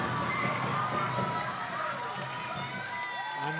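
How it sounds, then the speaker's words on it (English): A handball crowd in Denmark cheers and roars after a goal, a loud continuous wall of voices and shouts from a packed arena filling the whole stretch. "And with that goal, the crowd goes wild."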